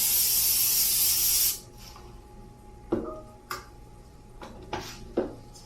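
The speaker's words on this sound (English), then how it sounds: "And give that a spray as well." A loud, steady cooking spray hisses for about a second and a half into a baking pan, then stops, followed by a few light clicks and taps nearby.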